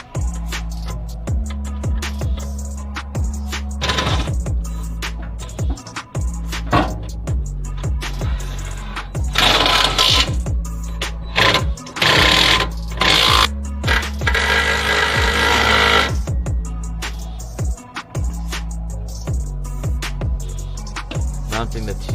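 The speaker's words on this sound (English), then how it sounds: "Mounting the two 12mm nuts on top with an extension." Twelve-millimetre nuts on top of a car's coilover mount being run down with a tool on an extension, giving repeated bursts of ratcheting, whirring tool noise with short gaps, loud and close over a steady low hum.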